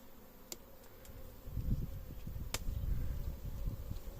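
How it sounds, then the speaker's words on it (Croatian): Low, droning buzz of many honeybees up close at a hive, swelling louder partway through, with a few sharp clicks over the hum. "Evo ih, pčela ima."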